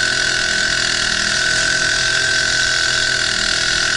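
A 2-horsepower outboard engine drones steadily on an inflatable rubber boat towing a homemade sea anchor, a constant close, loud hum with water churning beneath it.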